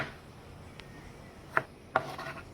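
A knife chops tomatoes as small as possible for Colombian chicken sudado, with two sharp blade strikes on a board against soft rubbing and scraping, close and alone.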